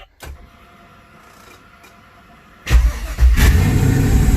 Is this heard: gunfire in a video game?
no